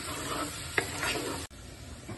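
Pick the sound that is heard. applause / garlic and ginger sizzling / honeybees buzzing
garlic and ginger sizzling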